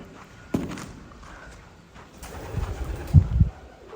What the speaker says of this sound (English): Look at that. Some big pigeons.